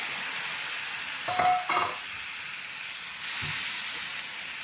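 Stuffed squid pieces sautéing in a pan with chilli powder, a continuous hissing sizzle with a few louder stirring scrapes near the start, no voices.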